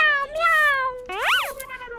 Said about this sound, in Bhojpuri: ये बिलाई कहाँ बोलती है रे?